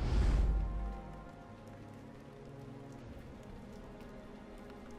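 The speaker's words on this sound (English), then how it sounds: "And it's raining in a cemetery." Rain falls steadily in a cemetery in the video game Bayonetta, a soft, quiet hiss of drops that continues evenly after a louder thump at the start.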